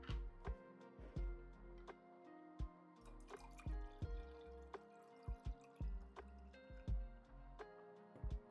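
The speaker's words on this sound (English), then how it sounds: "Just filling up my water." A water bottle or glass being filled with water, heard as a quiet, close run of irregular drips and glugs that comes in short uneven bursts with pauses between.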